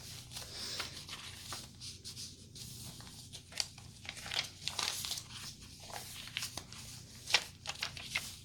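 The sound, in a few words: handling and crinkling sewing paper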